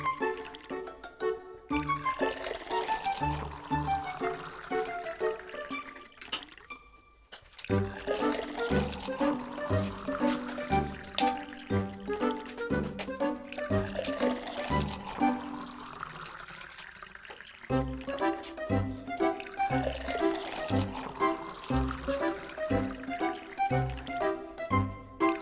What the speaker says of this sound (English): we're going to put water from each of the bottles into its container.